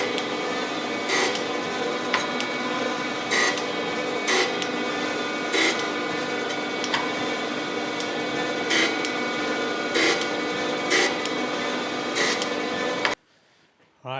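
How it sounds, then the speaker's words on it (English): A surface grinder with its magnetic chuck switched on grinds a metal key down to size, a steady close whirring hiss with periodic louder passes that cuts off abruptly near the end. "grind this thing down to get it to the right size. So let me turn on my mag chuck."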